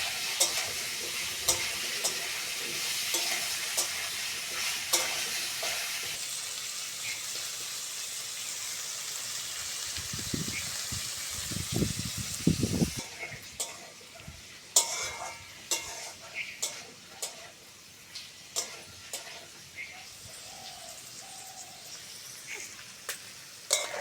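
Young jackfruit fries with onions in a kitchen pan, sizzling steadily under stirring scrapes, with heavier stirring clatter in the middle and sharper utensil knocks toward the end.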